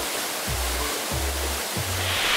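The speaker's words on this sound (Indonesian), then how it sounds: "ini dia Hot Waterfall" Falling water roars as a constant broadband wash at the Hot Waterfall, Air Terjun Keliwon, deep in forest near Aik Berik village, with low intermittent rumbling sweeps underneath.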